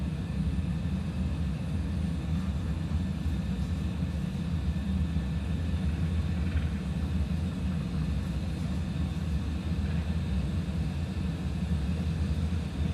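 Airliner takeoff roll on a Houston departure in a flight simulator game, a steady loud engine rumble and roar that holds constant throughout with no voices.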